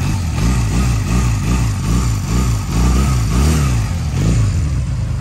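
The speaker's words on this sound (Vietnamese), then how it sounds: "Đấy, đang nổ máy mà máy êm ru này." A Honda LA 250cc motorcycle engine idles steadily and smoothly up close, with an even low throb and no voices.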